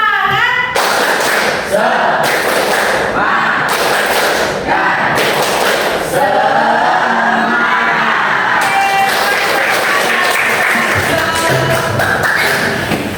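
Schoolchildren perform a rhythmic clapping chant in class, with sharp unison claps in a steady pattern alternating with chanted voices and cheering, all close and loud throughout.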